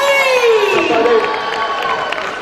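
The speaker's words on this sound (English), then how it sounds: "Round of applause, man." A crowd at a live music show cheers and shouts loudly, voices rising in a dense, sustained roar with scattered whoops and faint clapping, all close and continuous across the moment.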